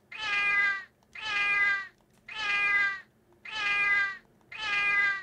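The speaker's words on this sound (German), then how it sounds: "Die Katze klingt ein bisschen rollig." A cat in the PS1 game Barbie Race and Ride meows five times in a row, each a long, loud, wailing yowl separated by short pauses, with no voices over them.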